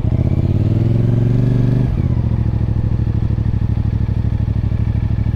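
A 2024 CFMOTO 450CL-C motorcycle idles with a steady throb, then after a brief dip pulls away in a rapid, pulsing engine beat, close and loud with no talk.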